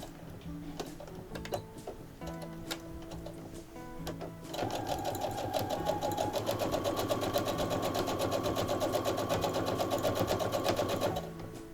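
A sewing machine stitches a decorative border onto a cotton dish towel, its steady mechanical whirr running at moderate volume, with short bursts early on before a long continuous run that stops near the end.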